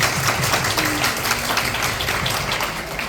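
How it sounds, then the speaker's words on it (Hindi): Audience applause erupts at a motivational talk, a dense, steady wash of many hands clapping together throughout, fairly loud and close. "एक जोरदार ताली होनी चाहिए आपको।"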